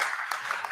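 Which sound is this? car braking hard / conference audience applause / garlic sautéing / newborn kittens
conference audience applause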